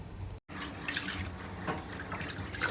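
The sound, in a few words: washing rice under running water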